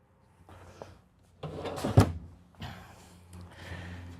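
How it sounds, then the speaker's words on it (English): A deep storage drawer slides open beneath the 12-volt refrigerator inside a 2024 Winnebago Vita 24P RV, a close, soft sliding rumble ending in a firm thunk, with quieter handling noises before and after. "You also get a nice deep storage drawer underneath."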